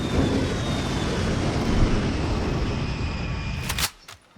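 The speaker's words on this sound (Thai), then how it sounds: "เราเรียก เครื่องบินมาไล่" Aircraft flying over in the Call of Duty Cold War multiplayer game, a broad roaring whoosh that holds for several seconds then cuts off abruptly, followed by a couple of sharp clicks.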